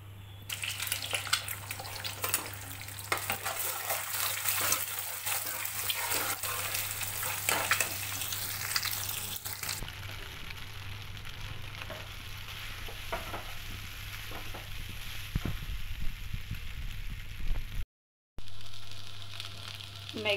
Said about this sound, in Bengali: ম্যাগি সাদা তেলেই ভাজবো, একটু তেলটা বেশিই লাগবে।